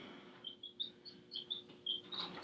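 Four baby chicks kept in a house giving a rapid series of short, high peeping chirps, faint and somewhat distant over a steady low background hum, with no talking.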